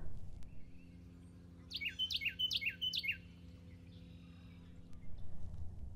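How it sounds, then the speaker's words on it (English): Small birds in a wooded area sing a quick run of five or six bright, sharp chirps mid-clip, fairly close, over a low steady background hum with no talking. "In this wooded area, there are lots of little birds flying around."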